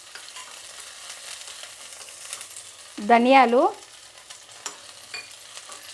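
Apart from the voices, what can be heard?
frying spices, green chillies, ginger and garlic in oil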